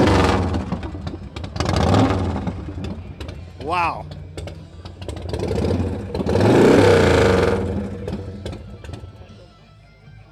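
A 2006 Saxon Crown motorcycle engine starts and revs up loudly at the 2011 Love Ride, surging in a couple of strong bursts over several seconds, with people talking and an exclamation heard around it.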